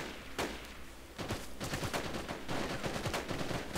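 Gunfire in the military video game Project Reality, on the Karbala insurgency map, with rapid bursts and repeated shots, some sharp and close, others more distant, in a continuous exchange of fire.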